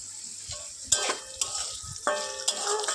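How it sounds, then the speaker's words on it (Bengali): Potatoes fry in hot oil in a wok with a steady sizzle, broken by a few sharp clinks and stirring scrapes. "কড়াইতে তেল গরম করে আলুটা ভেজে নিচ্ছি"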